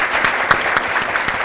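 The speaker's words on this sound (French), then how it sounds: "On applaudit pour l'émission." Studio audience applauding at the close of a French entertainment show, a brief, loud burst of close clapping with distinct individual claps standing out.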